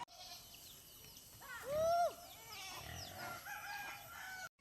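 A rooster crows once, loud and close, amid a chorus of clucking chickens and other farmyard calls.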